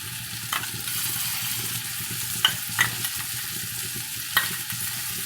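Chicken frying in a pan with ginger-garlic paste as sour yogurt goes in and is stirred: a steady, close sizzle with a few sharp spoon scrapes and clicks over it.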